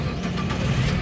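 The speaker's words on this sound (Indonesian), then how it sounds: "Sekarang kita coba nyalakan mobil." The engine of a 2013 Nissan Grand Livina 1.5 SV with a manual gearbox starts and runs, giving a loud, close, steady low rumble.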